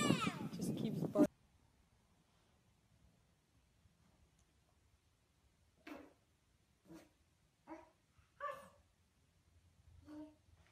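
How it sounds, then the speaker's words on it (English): A person talks briefly, then after a quiet pause a husky gives a series of soft, spaced barks and yips nearby. "sat down right next to me, and just keeps barking."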